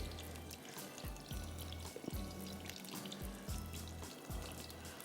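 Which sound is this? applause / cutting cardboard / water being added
water being added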